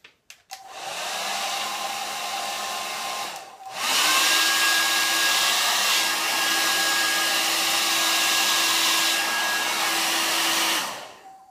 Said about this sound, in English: Let me just spray a couple of sprays on this and then put a hair dryer to it.